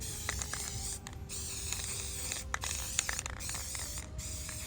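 Spray cans of black paint coating a Halloween wreath, giving steady hissing bursts with brief gaps and light rattling, close and moderately quiet.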